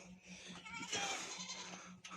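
A faint goat bleat wavers over a quiet, hissy outdoor background, brief and somewhat distant, near a flock guarded by an Akbaş shepherd dog.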